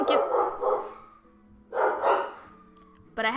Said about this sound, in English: When will the dogs stop?